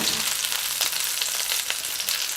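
Mushrooms sizzle in a pan, a bright, steady crackling frying sound held close and loud for the whole moment, with faint stirring flickers.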